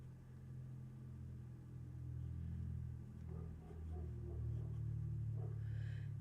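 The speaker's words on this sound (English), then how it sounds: "And a noisy car." A noisy car passes in the morning as a low, steady engine rumble that swells slightly and stays prominent, with faint background sounds above it.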